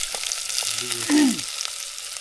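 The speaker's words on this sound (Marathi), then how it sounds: "फोडणी बस काय मस्त आहे" Tempering (phodni) of spices sizzles steadily in hot oil, cooked outdoors on a village farm at night for a chicken party, with a brief louder hiss partway through and some faint voices in the background.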